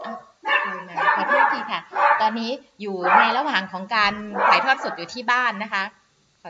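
A puppy barks and yips repeatedly at a home during a live broadcast, while someone talks continuously over the barking nearby.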